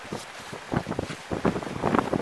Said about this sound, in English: Squally weather.